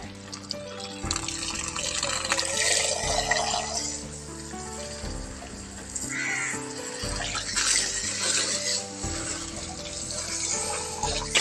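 Water poured on plants splashes and trickles steadily onto the ground nearby, with crows cawing in the background throughout.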